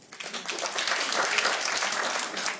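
A comedy club audience bursts into applause, a dense wash of clapping that swells quickly and holds for a couple of seconds before fading.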